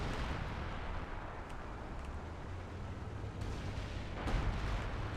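Artillery fire in Company of Heroes 2 during a 3v3 Across the Rhine battle: a dense, rumbling wash of distant blasts, with a couple of heavier thuds breaking through near the end.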